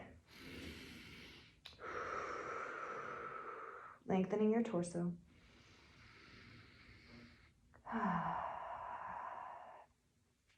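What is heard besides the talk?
loud breathing during yoga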